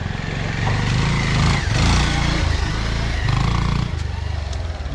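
A motorcycle engine running close by on a rain-soaked road near Diktel bazar, a loud steady low thrum with slight rises in revs, no voices.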